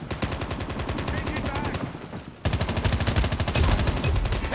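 Rapid automatic gunfire in a Call of Duty deathmatch mod, loud continuous bursts of fast shots with a brief pause midway before firing resumes even harder.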